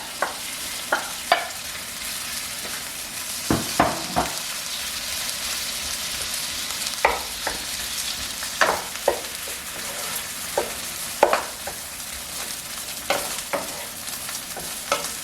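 Butter and olive oil with rice frying in a pan for bacon fried rice, heard as a soft, continuous sizzle under regular sharp clicks and taps of a utensil on the pan.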